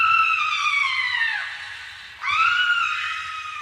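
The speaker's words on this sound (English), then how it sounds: "Screaming." Two long, loud screams from a Halloween sound effects cassette tape, each starting high and sliding downward. A short gap separates them, with no other sounds or speech.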